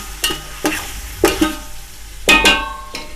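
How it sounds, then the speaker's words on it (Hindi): Garlic-ginger paste is stirred and fried with softened onions in a pot for chicken pulao, giving repeated scraping stir strokes with short bursts of sizzling, loud and close, with no voices. "अब हम इसमें शामिल करेंगे 2 टेबल स्पून लहसुन अदरक का पेस्ट। इसको हम थोड़ा सा भूनेंगे इसमें"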